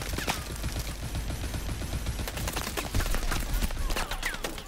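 Rapid bursts of gunfire in Call of Duty: Advanced Warfare crackle continuously, with sharp shots and heavier volleys stacked closely together under a dense, noisy background.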